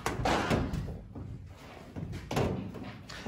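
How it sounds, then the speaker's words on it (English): A furnace blower compartment door being pushed shut in a church, giving short thuds and knocks that come and go, fairly close, against a steady background hum. "blower compartment door and hence closing the door switch."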